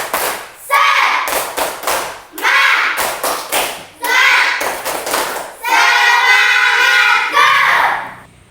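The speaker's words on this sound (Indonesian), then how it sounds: "kita tepuk semangat dulu" Group of schoolchildren doing a rhythmic tepuk semangat clapping chant in an elementary classroom, loud bursts of patterned claps in several phrases mixed with their chanting voices.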